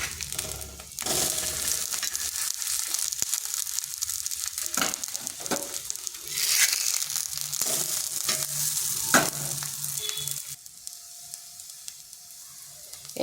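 Semolina cakes sizzle in a pan with a little oil over low heat, a continuous close frying crackle with a few brief clatters and scrapes of a utensil, then quieter toward the end.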